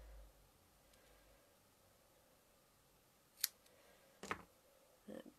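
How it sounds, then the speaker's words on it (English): Scissors snip the ends off a ribbon bow in a quiet crafting room, giving three short, crisp cuts spaced about a second apart, otherwise near silence. "trim the ends off."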